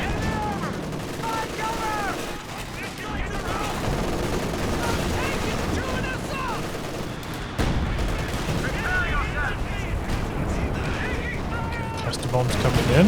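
Explosions and gunfire from a Company of Heroes 2 multiplayer battle, with bursts of shooting and blasts running continuously under a busy game mix, loud throughout and swelling near the end, with a commentator talking over it.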